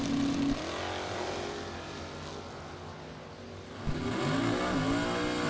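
Buick GSX drag racing cars accelerate down the strip, their engines producing a loud, sustained harmonic roar that dips slightly mid-run before a second engine surge rises near the end.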